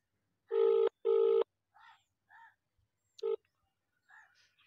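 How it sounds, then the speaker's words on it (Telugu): Telephone keypad dialing tones on a loudspeaker phone: two long beeps, a few faint softer tones, then a short beep, in a quiet room. "మీ ముందరే కాల్ చేస్తున్నాను, లౌడ్ స్పీకర్ కూడా పెట్టి మాట్లాడతాను."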